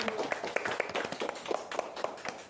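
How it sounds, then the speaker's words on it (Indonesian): An audience claps for a stand-up comedian at a comedy show, a dense patter of many hands, steady and fairly close, with no talk over it. "Kasih tepuk tangan yang meriah dulu dong."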